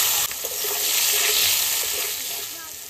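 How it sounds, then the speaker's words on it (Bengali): Potato pieces fry in hot oil for a fish curry, giving a steady, close sizzle and crackle that holds across the whole stretch with no talking. "এবার আমি লাল লাল করে আলুগুলো ভেজে নেবো।"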